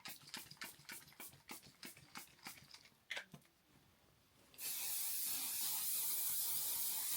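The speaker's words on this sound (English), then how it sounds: "I also found this, the Remist, is it? SPF Reapplication Mist by Ultraviolet." Ultraviolet SPF Reapplication Mist sprayed in one long, loud, steady hiss lasting about three seconds, close by, after a stretch of quieter clicking and handling sounds.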